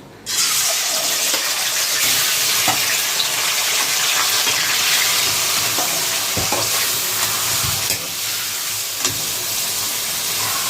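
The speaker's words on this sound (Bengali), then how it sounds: "মাংসটা এখন একটু সাতলাবো" Chicken marinated in salt and turmeric sautéing in oil over lowered heat for biryani, a strong continuous sizzle that starts suddenly, with occasional spatula scrapes and knocks.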